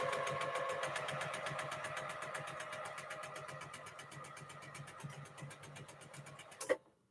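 Sewing machine stitching a quilt seam at a quarter-inch allowance, a steady, fast mechanical whir running close and continuous for several seconds before stopping with a soft clunk, no talking.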